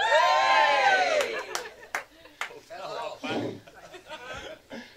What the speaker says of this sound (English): Table 9 gives a cheer.